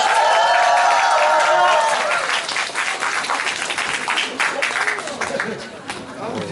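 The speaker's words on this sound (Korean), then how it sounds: "다시 한 번 더 큰 박수 부탁드리겠습니다" Audience applause at a mayoral candidacy press conference in Gumi, loud and steady dense clapping filling the room for several seconds with some crowd murmur.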